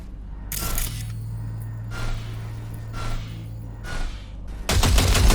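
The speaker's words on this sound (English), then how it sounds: "See that pile of junk? Fire a short burst into it." Short bursts of gunfire in Cyberpunk 2077 aimed into a pile of junk: several brief, sharp volleys spaced about a second apart over a low steady hum, ending in a louder, denser burst.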